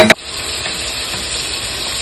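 Masala for prawn tawa fry bubbling and sizzling in a pan, a steady loud hiss after a brief clatter at the start, with no talking.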